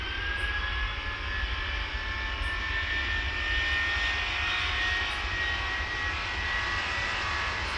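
A jet airliner departing Dallas Love Field in a tower simulator game gives a steady, even engine roar that holds for several seconds as it moves away, with no talking.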